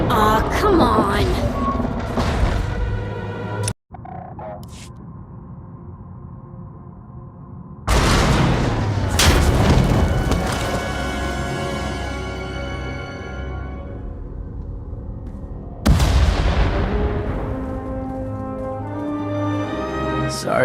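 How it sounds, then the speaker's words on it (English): Explosions boom in the Star Wars: The Old Republic video game, three big blasts with long crackling, rumbling decays, loud and close, separated by quieter stretches. "We heard explosions."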